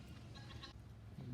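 A goat bleating at a zoo in Utica, New York, a faint wavering bleat heard once briefly and again near the end, amid quiet background noise.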